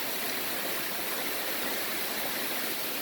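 A flowing forest stream on the Black Forest Trail in Pennsylvania rushes close by in a dense, steady hiss of moving water, loud and unchanging throughout, with no voices over it.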